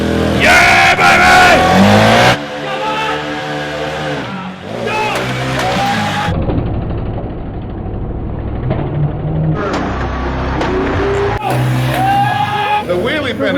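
A VW Touareg does a burnout, its engine revving hard in loud, surging bursts that rise and fall, while people shout and cheer nearby over the noise.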